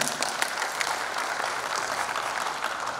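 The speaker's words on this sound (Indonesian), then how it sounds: "tepuk tangan untuk kita semua Bapak sekalian" Audience at a provincial motorsport association working meeting giving a round of applause, dense steady clapping throughout, fairly close and loud.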